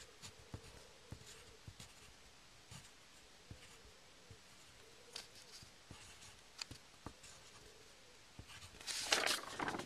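Pen writing on paper makes faint, scattered scratches and taps over quiet room tone, followed by a brief louder rustle at the end.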